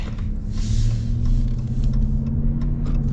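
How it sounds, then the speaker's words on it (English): A 2024 Ram 1500 with its Hemi V8 drives along, a steady, low, smooth engine drone heard from inside the cab, with road rumble and a slight rise in revs. "whereas this, you know, it's just got the Hemi sound"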